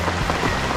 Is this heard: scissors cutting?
no